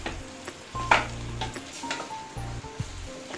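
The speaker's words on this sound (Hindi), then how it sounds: "इसे अच्छी तरीके से मिलाएंगे और इसे हम 2 मिनट तक भूनेंगे।" Chunks of boiled potato frying in a pan for a dry aloo sabzi, with a steady sizzle and intermittent scraping and clinking as a spoon stirs them. The sounds are close and moderately loud.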